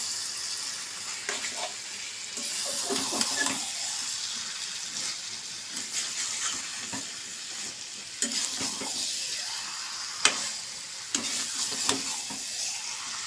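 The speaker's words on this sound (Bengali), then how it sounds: "মাংসটা আগে থেকে ম্যাগনেট করে রেখেছিলাম এবার নাড়তে থাকবো" Marinated beef being stirred in a hot pan, with a steady sizzle beneath repeated scraping and stirring strokes and a few sharper clinks of a spoon against the pan; no voices.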